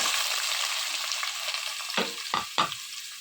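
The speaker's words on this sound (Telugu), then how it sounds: "ఆయిల్ బాగా వేడెక్కిన తర్వాత పచ్చిమిర్చి ఆనియన్స్ వేసుకోవాలి" Green chillies and onions frying in hot oil in a pot: a steady close sizzle throughout, with a few sharp stirring clinks near the end.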